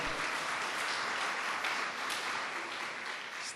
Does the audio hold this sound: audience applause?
yes